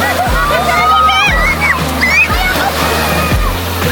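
Ocean waves at a camping spot near Kiama, New South Wales, sloshing and splashing in repeated surges close by, with people talking over the water.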